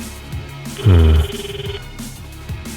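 A phone rings once inside the Under Night In-Birth game, a short loud electronic trill standing out over a steady game background.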